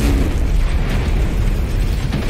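A spacecraft crash landing in The Callisto Protocol erupts into a loud, continuous explosion, a dense roaring blast with crackling debris and heavy low rumble filling every moment.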